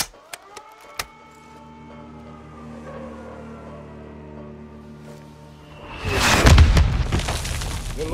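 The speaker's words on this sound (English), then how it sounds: "Launching mortars," Mortar shells in Call of Duty Modern Warfare 2 strike with a heavy booming blast near the end, following a few sharp cracks and a long droning tone.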